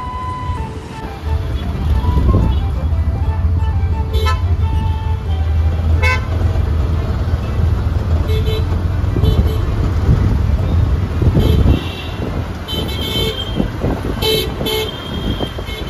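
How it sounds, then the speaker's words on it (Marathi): An auto rickshaw drives along a road toward Sinhagad Road, its engine rumbling steadily up close with occasional horn toots and passing traffic, and some talk heard faintly inside the cabin. "आता आम्ही रिक्षामध्ये आहोत आणि रिक्षाने आम्ही हा प्रवास करणार आहोत"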